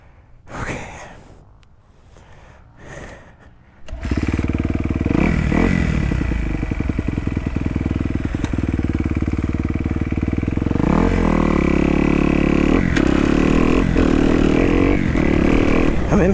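A motocross motorcycle on a dirt track, heard first through breathy sounds near the mic, then its engine roars in and holds a loud, steady rev for about twelve seconds, with a shift in pitch near the end.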